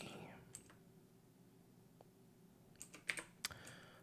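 Computer keyboard typing while installing PHP packages on Ubuntu for a LAMP stack: faint, sparse clicks early, then a brief burst of louder keystrokes near the end over a quiet room.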